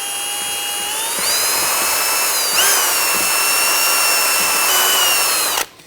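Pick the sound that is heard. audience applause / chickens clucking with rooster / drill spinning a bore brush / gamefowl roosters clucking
drill spinning a bore brush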